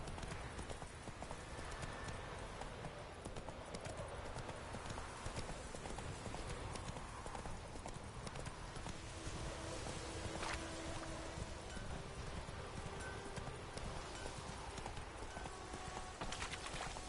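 Horse hooves clip-clop in a steady, fast rhythm in the video game Witcher 3, a continuous gallop over faint ambient rustling with no talk.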